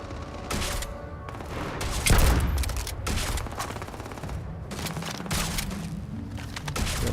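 A minigun fires in the video game Starfield, rapid bursts of automatic gunfire rattling close and loud, with a heavier blast around the second mark and repeated volleys following.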